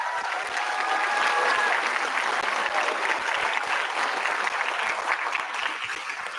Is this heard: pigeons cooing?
no